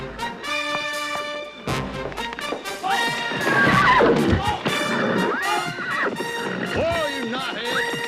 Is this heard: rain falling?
no